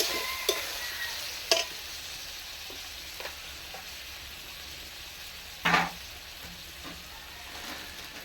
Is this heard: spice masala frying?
yes